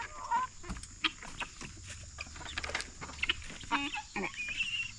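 A farm rooster clucks and squawks in irregular bursts nearby, with scattered rustling and handling noises between calls and a low background hum.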